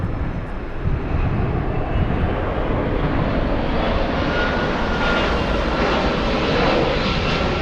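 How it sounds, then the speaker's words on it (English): A LATAM Cargo Boeing 767 freighter flying in from Brussels toward Frankfurt, a steady, fairly loud jet engine rumble and rush that holds evenly across the stretch at moderate distance, with no speech. "We have a LATAM 767 flying in from Brussels."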